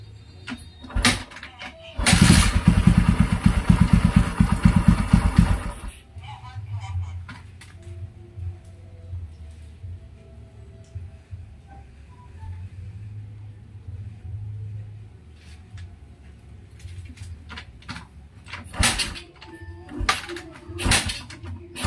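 Restored Kawasaki Barako motorcycle engine being tuned, with a loud burst of revving near the start, then a low, uneven idle rumble that wavers and stumbles, plus mechanical clanks and handling noises toward the end.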